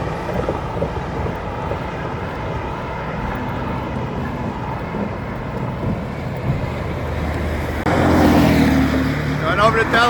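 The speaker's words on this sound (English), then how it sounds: "A lot of road noise." Road traffic crossing a bridge over the Delaware River into New Jersey, heard as a continuous rushing roar of passing vehicles, growing louder near the end as a fast car speeds by close to the microphone.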